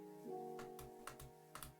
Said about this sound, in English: You guys love how my keyboard sounds?